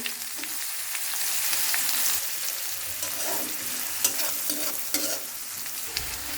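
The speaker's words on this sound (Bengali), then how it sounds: "এদিকে পেঁয়াজ কাঁচামরিচ ভাজা হয়ে গেছে" Steady, loud frying sizzle of chopped onions and green chilies in oil, with intermittent scraping of a spatula stirring the pan.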